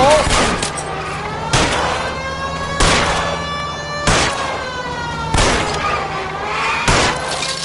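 Gunshots fired at a fleeing car's tires during a car chase in LA Noire, five or six loud sharp cracks spaced about a second apart over a steady engine drone and a siren.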